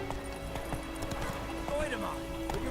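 The horse Roach clip-clops in a rhythmic gallop in The Witcher 3 and gives a brief whinny, with a voice speaking over the hoofbeats and game music underneath.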